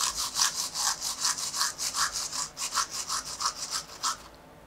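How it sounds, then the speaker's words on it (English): Food is rubbed back and forth over a small kitchen grater to draw out pulp and juice for a summer salad, giving about twenty quick, rhythmic rasping strokes, close and fairly loud, with no voices over them. "So I'm just gonna rub it on this little grater."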